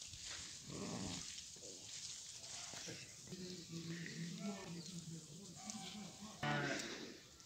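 Sheep bleat on a farm holding a flock of 160 breeding ewes alongside cattle. Several wavering calls rise over a steady, busy barnyard background, with a louder bleat near the end.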